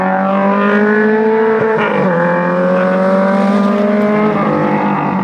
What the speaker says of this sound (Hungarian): És hallani, hogy autó megy a pályán